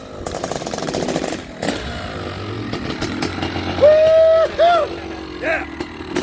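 A Honda CR500AF dirt bike with an aluminum frame and custom jetting runs, its raspy two-stroke engine buzzing in the background while people talk over it.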